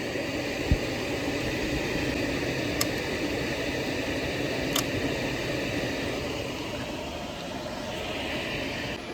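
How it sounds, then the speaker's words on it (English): Indoor HVAC blower fan running in a steady, even whoosh of moving air, constant and fairly loud throughout with a few faint clicks. "we need a blower on the inside to move the air across the coils"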